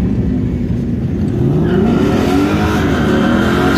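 Two Ford Mustang street cars racing at a drag event, engines revving with rising pitch as they accelerate, loud and continuous, with no voices.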